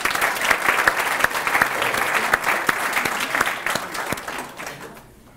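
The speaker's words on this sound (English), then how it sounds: "Let's give her a round of applause also in her absence." Audience applause at a chamber of commerce 30th annual meeting, a steady roomful of clapping with sharp individual claps standing out, holding for about five seconds before fading away.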